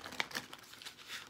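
Soft crinkly shuffling of tarot cards, a few brisk riffling bursts close by, quiet with no talking.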